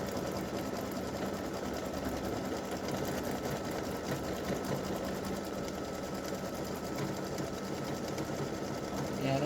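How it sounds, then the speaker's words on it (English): A sewing machine satin stitches around a bunny appliqué with darker thread, a steady, rapid mechanical whir and clatter running continuously and close. "So I put in a little darker thread to do the satin stitching around the bunny."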